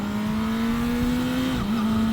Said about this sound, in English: Oh, I love the way these new tires turn in.